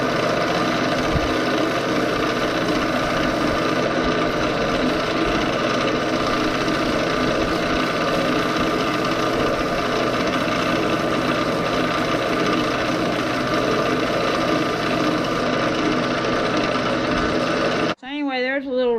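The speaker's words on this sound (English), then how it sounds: "There's a little rough area over here I need to sand just a little bit." Fatwood, a resin-rich pine, sanded with a power sander that runs as a steady, loud buzzing drone near the mic, with faint murmured talk underneath before the motor cuts off abruptly near the end.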